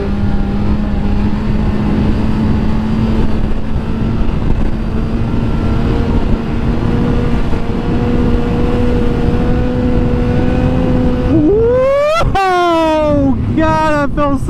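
A motorcycle engine drones steadily at a constant pitch under strong wind buffeting for most of the stretch, then revs up hard and falls away near the end during a wheelie, loud and close.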